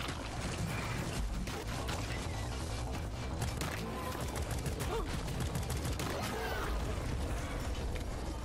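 Rapid, sustained turret gunfire rattles steadily through combat in Deep Rock Galactic, a dense mechanical clatter layered with game noise, while players talk over it.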